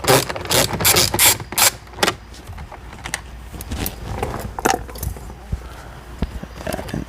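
A ratchet turns an 8mm bolt during a sensor install, giving rapid, close clicking in quick bursts, then sparser, softer clicks and taps.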